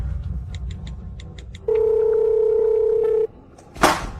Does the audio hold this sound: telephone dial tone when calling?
yes